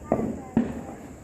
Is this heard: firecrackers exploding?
yes